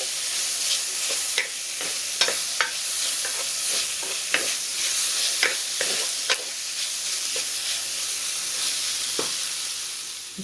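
Meat for stuffed karela gosht frying on medium heat, a continuous close sizzle broken by repeated sharp scrapes and clinks of stirring in the pan, no voices.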